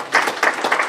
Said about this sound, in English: a round of applause for that